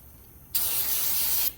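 A single steady hiss of brake cleaner sprayed onto a new brake rotor to strip its oil coating, close and loud for about a second, then cutting off abruptly, with no talking.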